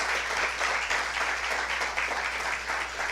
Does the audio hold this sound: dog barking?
no